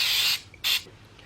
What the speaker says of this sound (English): We're gonna give it a little spray in the bottom.